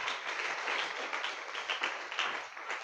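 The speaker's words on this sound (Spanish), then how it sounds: "Denle un aplauso al Señor." A church congregation applauds during a sermon, a dense, continuous wash of clapping hands that holds steady for about three seconds.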